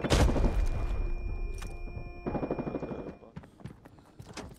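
Gunfire in the shooter game Arena Breakout: a loud burst of shots and booms at the start, then rattling fire and softer scattered impacts trailing off, with no one speaking.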